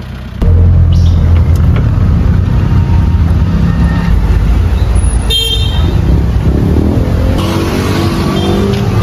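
Busy street traffic in Santa Cruz, Laguna, with many vehicles: loud continuous engine rumble close by, occasional horn toots and passing cars, no clear talk.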